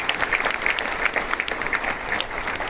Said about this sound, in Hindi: मैं उनको रिक्वेस्ट करूंगा कि खड़े हो जाएं, हम सब ताली बजाएं उनके लिए।